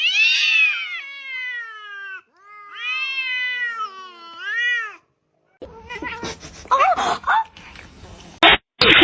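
A kitten gives a run of high, clear meows with rising and falling harmonics, several calls in two bursts, close and loud, followed by noisier rustling, handling sounds and brief clatter.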